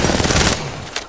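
A burst of rapid automatic gunfire rattles in a video game, dense and loud for half a second before trailing off into quieter scattered noise.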